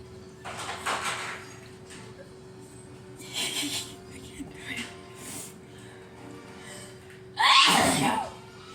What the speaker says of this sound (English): sneezing break